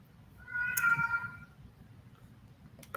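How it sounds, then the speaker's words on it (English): A house cat gives a single drawn-out meow near the microphone, loud for about a second, followed by quiet room tone and a faint click at the end. "Sorry, my cat."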